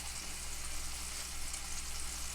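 Big pork chops frying in a pan give a steady, close hiss and crackle of sizzling fat that stays level and continuous throughout.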